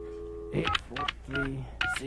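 Keypad tones of a telephone number being dialed, a short run of separate beeps in an uneven rhythm, close and fairly clear, with a faint background hum.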